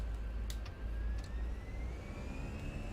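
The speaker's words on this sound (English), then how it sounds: "Listen to these engines roar." Airbus A320 jet engines in the Fenix flight simulator game spool up with a steady low roar and a slowly rising whine, fairly quiet and continuous, with a few brief clicks on top.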